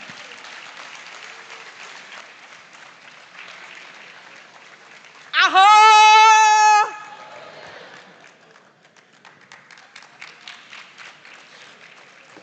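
Audience applause at a school farm awards grand final, moderate steady clapping from a crowd interrupted by a loud, sustained tonal shout in the middle, with clapping resuming afterward.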